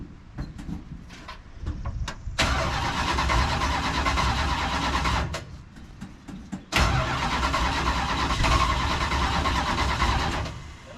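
A junkyard Dodge car starts and drives up a hill, its engine cranking with a few sharp clicks, then roaring loudly and steadily nearby, cutting out briefly before surging again at full throttle.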